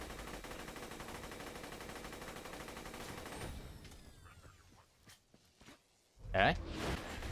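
Rapid gunfire aimed at the boss Hyperius in Borderlands 2 rattles densely for several seconds, then thins into scattered game effects before a short louder burst near the end.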